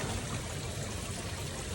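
Steady, close rush of water flowing up through a filter in a koi pond's enclosed filter room, an even broadband trickle with no pauses and no voices.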